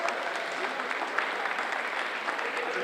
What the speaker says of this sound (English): So how about a nice round of applause?